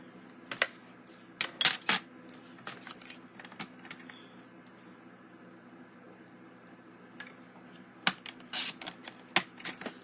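Cardstock being cut to length for a stamped card, heard as a series of short, close clicks and snips in scattered bursts over a quiet background, with no talking.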